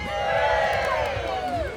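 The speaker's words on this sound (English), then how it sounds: "And they're going to give us a cheer here." Members of the Rock Choir, drawn from several choirs at the Torbay Airshow, raise a brief collective cheer outdoors, a burst of whooping voices that swells and then fades.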